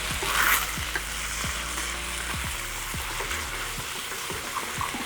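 Pork stir-fries in a hot pan with a steady, close sizzle, broken by occasional scraping and tossing stirs, with no talk.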